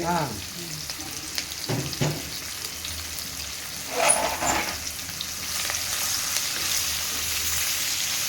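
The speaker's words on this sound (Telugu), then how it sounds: "ఇది ఫ్రై చేసుకున్నాం రైట్ మంచిగా కొంచెం మంచి కలర్ చేంజ్ అయ్యేంత వరకు వేసుకోవాలి" Ridge gourd peels sizzle and fry in hot oil, with occasional stirring scrapes over a steady crackle, close up and without talk.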